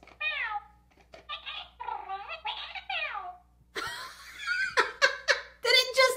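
A plush toy from a scented mystery box gives out several short, high, warbling meow-like electronic cries, close and fairly loud, with people talking and laughing between them.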